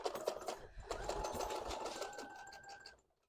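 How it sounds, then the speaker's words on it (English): A sewing machine runs steadily, stitching cat ears onto a Pokemon hat, a close, continuous mechanical whir with rapid needle rhythm that stops at the end. "we're sewing the skitty ears on, and I'm trying to make sure I get it as close to the edge as possible"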